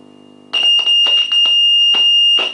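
A signal injector applied to a radio circuit gives a loud, piercing steady electronic beep continuously, with bursts of crackly noise pulsing over it, preceded by a faint low hum.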